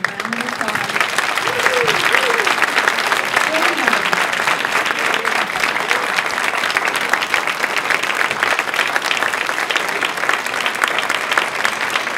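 Sustained, loud audience applause at a 2016 health fair, thick continuous clapping lasting over twelve seconds, with a few voices calling out early on.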